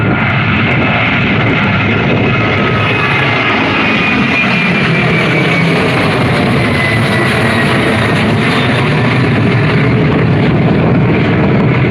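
A Qantas Boeing 737 roars on takeoff, its jet engines producing a loud, continuous, close rumble and whine that holds steady throughout as the aircraft climbs away.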